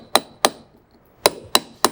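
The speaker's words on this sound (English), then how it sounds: "We have to do it by hand, by hammer and chisel." A hammer strikes a chisel by hand to cut a brick out of a historic wall, five loud, sharp, close metallic impacts in an uneven rhythm with short gaps between them.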